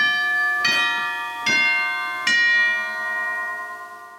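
Cathedral chimes in a theatre organ's percussion chamber, three clear bright strikes about a second apart, each ringing on with long overlapping tones that slowly fade, close and alone.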